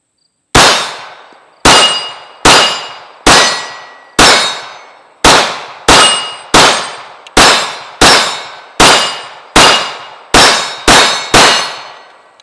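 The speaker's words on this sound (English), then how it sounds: "let's go ahead and shoot another mag" Pistol shots from a magazine fired through a CZ P-01 or Sig P229 Legion at a range: fourteen sharp, loud reports with ringing decays, at irregular intervals of about one second or less, with no talking.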